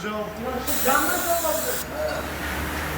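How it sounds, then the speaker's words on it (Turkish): Brake cleaner sprays onto the water pump seating area on a Ford Fusion 1.6 TDCi engine, a loud steady hiss lasting about a second under a man's speech. "Yeni devir daimi takmadan önce balata spreyiyle oturacağı bölgeyi ve civarını güzelce yıkıyoruz."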